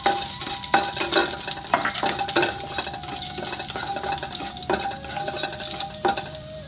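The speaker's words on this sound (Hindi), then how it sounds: "अब इसमें मैं वापस थोड़ा घी डालूँगी और इसमें हम थोड़े से जो काजू हमने निकाले थे उसे तल" Cashews fry in ghee with a loud, constant sizzle while a spoon stirs and clinks against the pan in quick, repeated taps and scrapes, with no talking.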